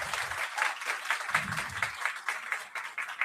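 An audience claps at a French political debate on the federal EU. The applause is fairly soft and choppy, with brief low voices murmuring beneath it.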